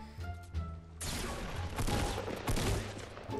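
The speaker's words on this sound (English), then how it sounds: "I'm gonna use the new shotgun." Shotgun blasts and heavy gunfire in Fortnite Battle Royale, a quieter stretch at first and then a loud, sustained barrage of close shots with sharp repeated reports.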